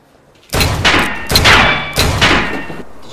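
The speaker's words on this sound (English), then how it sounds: "That was a gunshot!" Gunfire near someone carrying a pistol: three loud, close, sharp broadband bursts about a second apart, each trailing into rough, sustained noise, with no talking.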